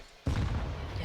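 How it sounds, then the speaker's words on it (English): Grenades detonating in Counter-Strike on the Inferno map during a pro match, a loud, close boom that bursts in suddenly after a short silence and rumbles on in a dense, sustained roar. "we have a barrage of nades being lobbed down mid"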